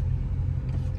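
A V8 car engine rumbling steadily at idle, a deep continuous low drone that stays close and fairly loud for about a second with no other sounds.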